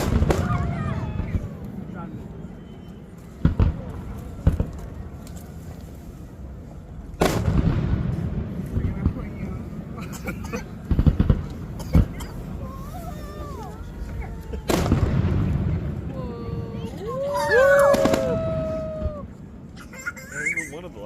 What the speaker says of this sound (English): One of the largest fireworks shows on the West Coast.